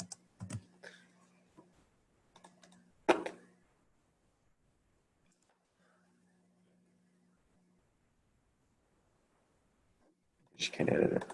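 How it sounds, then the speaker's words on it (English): Short bursts of clicking computer keyboard typing for a geometry text box, a few quick clusters near the start and a louder run at the end, separated by quiet stretches with faint background. "So you would type out the definition, type out the notation,"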